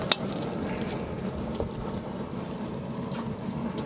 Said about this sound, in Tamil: நல்லா பூண்டு சட்னிக்கு எண்ணெய் காஞ்சிடுச்சு. வரமிளகா வறுக்க போகிறோம்.